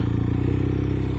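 A BMW R 1250 RS motorcycle with a new tune and a full Akrapovic titanium exhaust, baffles left in, rumbles at a steady idle close by: a deep, even, pulsing engine note with no voices over it.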